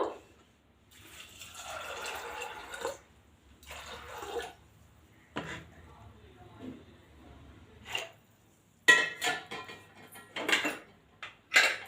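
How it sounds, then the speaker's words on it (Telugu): Water is poured into a pressure cooker pot in a home kitchen. Several separate splashing, filling bursts come with pauses of quiet between them, close and moderately loud. "ఇప్పుడు వాటర్ యాడ్ చేసుకుందాం ఇందులో"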